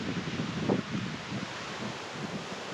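Strong wind blows steadily under a heavily clouded sky before rain, a broad, continuous rush with gusty swells and rustling, with no voices over it.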